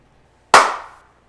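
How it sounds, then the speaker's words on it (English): A single sharp hand clap marking a film take for a home cooking show, one loud crisp snap with a short decaying ring, alone in an otherwise quiet room. "Oops, that was a bad clap."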